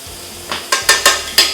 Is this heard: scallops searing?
yes